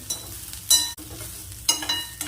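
Vegetables and chickpeas frying in a tablespoon of oil in a pan for a Kerala erissery, a soft steady sizzle broken by two louder bursts as a spoon stirs and scrapes the mixture, close by with no talking.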